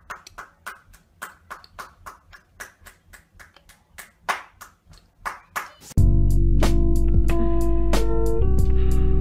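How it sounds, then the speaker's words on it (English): A single performer's clapping for a round of applause, sharp separate hand claps in a loose rhythm, close and fairly loud, giving way to loud music. "you got to give the man a hand clap"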